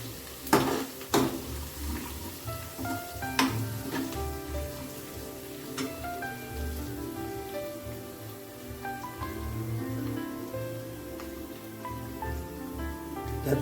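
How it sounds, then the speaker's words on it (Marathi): Cumin seeds frying in hot oil in a pan, with a continuous crackling sizzle, scattered pops and a few sharp louder taps near the start, close and steady throughout. "जिरं टाकायचं आणि छान फ्राय होऊ द्यायचं."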